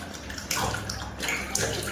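Water splashing and gurgling as it is poured out of two beer bottles that had been soaking, a brief close pour that swells twice.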